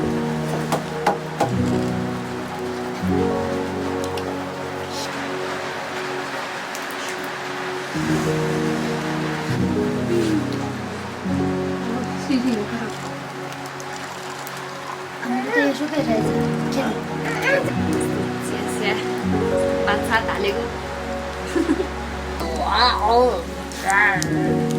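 Rain falls steadily in the Himalayas of Nepal on the Manaslu Circuit, a constant wash of patter that runs beneath voices and tonal sounds throughout.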